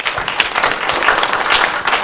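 A university lecture audience applauds the speaker after a talk, loud, close, continuous clapping throughout.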